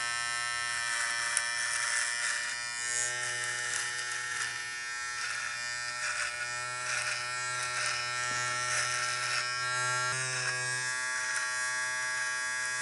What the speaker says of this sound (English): I am going to be trimming my beard for you guys